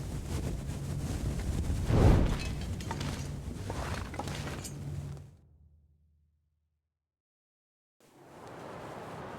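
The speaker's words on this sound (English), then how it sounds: "it is pretty windy out here" Gusting wind in the video game The Long Dark on Timberwolf Mountain roars broadly for several seconds, drops to total silence, then returns as a steadier, softer rush.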